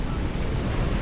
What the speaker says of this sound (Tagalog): Maalon talaga, pero nung last 2 days, grabe yung alon.